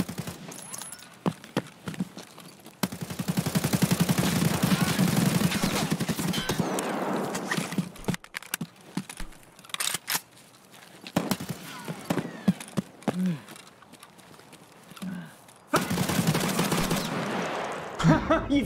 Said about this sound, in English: I literally shot him 14 times with BT